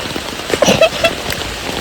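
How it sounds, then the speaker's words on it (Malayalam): Heavy rain falling outside a home, a dense steady hiss of drops hitting surfaces throughout, with a few brighter splashes and patters standing out near the middle. "നല്ല മഴ പെയ്യുന്നുണ്ട്."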